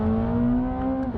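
C8 Corvette ZR1 twin-turbo flat-plane-crank V8 revving loudly and steadily up close, a strong sustained harmonic engine drone that climbs slightly in pitch, with no talking.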